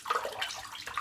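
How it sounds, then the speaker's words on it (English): A bar of shaving soap in its tub is shaken under running tap water, a brief close splashing rush with uneven bursts. "I'm just going to shake the soap under the water"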